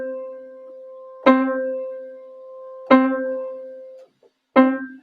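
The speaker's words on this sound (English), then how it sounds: "So when I play a note, other notes will resonate in sympathy." Piano sympathetic resonance: three struck lower notes, each a sharp attack followed by a sustained ringing tone as a silently held key resonates in sympathy, spaced evenly and clear in a quiet room.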